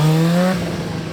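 Motorcycle idling and revving briefly during a Wall of Death stunt show as the rider goes backwards standing on the tank, a short falling engine tone that settles into a rougher idle.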